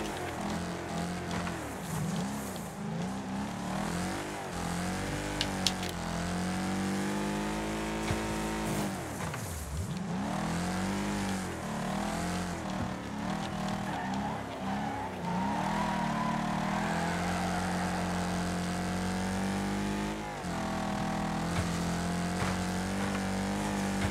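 A Ford Ranchero race car in the Wreckfest video game roars continuously around the Clayridge Circuit dirt track, engine revving up and down through gear changes with tire squeal and skidding, loud and close throughout.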